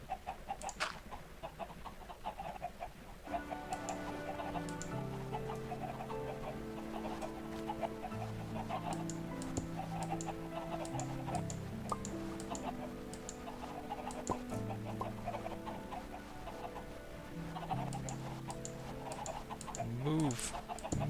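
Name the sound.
chickens clucking in video game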